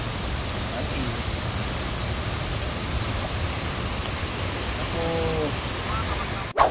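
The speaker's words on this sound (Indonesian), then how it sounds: "kita sudah sampai di air terjun Tonduhan ya, di bawah" Tonduhan waterfall roars from close below as a loud, continuous broadband rush of falling water that fills the whole stretch. A brief faint voice sounds near the end, and a sharp knock follows.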